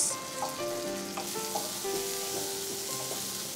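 Sliced onions sautéing in a little oil over a medium flame for paneer makhmali, a steady close sizzle and crackle with faint utensil scrapes and tonal clinks throughout, no talking.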